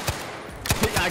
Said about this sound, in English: Oh, gunfire.